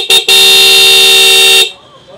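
A loud electronic smart-tone horn on a Hero Xtreme 125R motorcycle blares close by: a short blip, then one sustained tone lasting over a second before cutting off.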